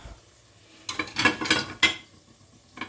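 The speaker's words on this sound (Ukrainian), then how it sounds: "Помили посуд, складаємо його одразу на місце" Clinking and rattling of dishes being handled and set down, a short cluster of clatters followed by a single later clink.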